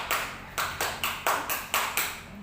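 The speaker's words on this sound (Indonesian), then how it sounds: "Tepuk punggung tangannya." Repeated light slaps of a palm on the back of a hand, seven even claps in a steady rhythm, close and moderately soft, with no voices.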